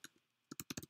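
Keys clacking on a computer keyboard as a line of Python is typed: two isolated taps, a pause, then a quick burst of four or five firm, close clicks.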